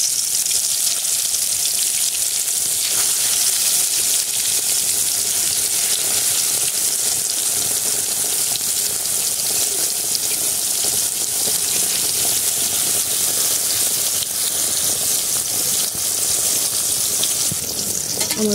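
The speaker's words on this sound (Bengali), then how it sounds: "কড়াই গরম হয়ে গেছে, এখন পটলগুলো দিয়ে দিব।" Pointed gourd slices fry in hot oil in a wok, a loud, steady hiss and crackle of sizzling that holds evenly throughout with no talk.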